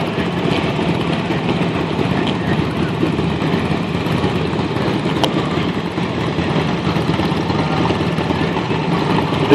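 A 1954 Ford 8N antique tractor runs steadily in an outdoor parade, giving a continuous mid-level engine chug with a faint, distant announcer's voice under it.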